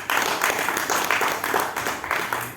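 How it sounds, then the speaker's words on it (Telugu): Applause from an audience at a meeting of a theatre artists' fan association, steady dense clapping sustained throughout, moderately loud and fairly close. "తర్వాత ఏకగ్రీవంగా అందరూ చప్పట్లు పెడతారు."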